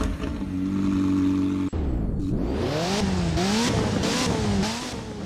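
A McLaren car engine in Roblox Driving Empire idles with a steady hum, cuts out briefly, then starts up and revs repeatedly in rising and falling surges, loud and close with no voices.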